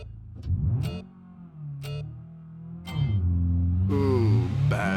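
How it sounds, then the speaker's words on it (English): A car revving and launching off the start line in the BeamNG.drive racing game, engine note climbing through gears with brief shift breaks, then a strong, steady pull at higher revs, close and loud. "I'm trying not to spin the tires off the line, but in doing so, I'm leaving with way too low of an RPM"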